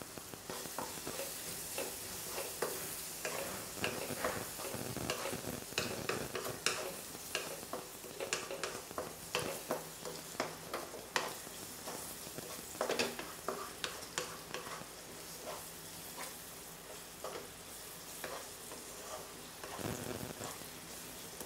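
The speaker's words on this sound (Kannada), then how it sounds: "ಟೊಮೆಟೊ ಎಣ್ಣೆಯಲ್ಲಿ ಚೆನ್ನಾಗಿ ಬೇಯಿಕೊಳ್ಬೇಕು." Tomatoes with turmeric cook in hot oil in a pan, a steady close sizzle broken by frequent scraping stirs of a utensil, continuous and fairly soft with no talking.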